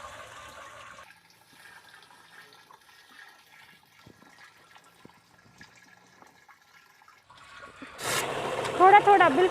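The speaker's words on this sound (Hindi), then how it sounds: "सबसे पहले कॉपर सल्फेट का जो घोल तैयार किया वो इसमें डालना है" Copper sulphate solution poured into water for a Bordeaux mixture in farming, faint quiet stretches followed by a louder, near gush of splashing liquid in the last seconds.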